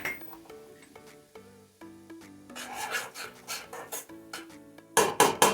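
A metal utensil repeatedly knocks and scrapes against a kadhai (wok) used with ghee, giving ringing metallic clanks in an irregular series, mixed with harsher rasping scrapes, then ending in a loud close flurry of strikes.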